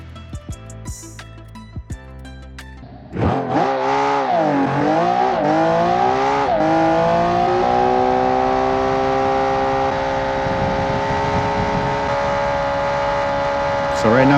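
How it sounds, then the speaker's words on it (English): A Widowmaker GT car engine in the BeamNG video game revs up with rising and falling pitch, then holds a loud sustained drone, after a few scattered clicks at the start. "I wanted to make the engine sound a little bit better."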